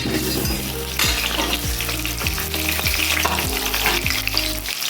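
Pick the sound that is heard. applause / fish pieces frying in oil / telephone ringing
fish pieces frying in oil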